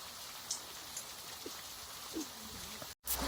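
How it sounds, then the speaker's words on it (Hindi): Heavy downpour over a maize field, a steady broadband hiss of rain with scattered drop splashes, close and continuous, cutting out briefly near the end. "अचानक बारिश आ गया और पूरा झमाझम बारिश हो रहा है"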